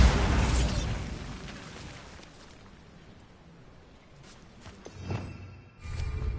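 Hogwarts Legacy's Bombarda spell detonates in a loud opening blast that fades into a quiet tail, followed by smaller pops and thuds near the end.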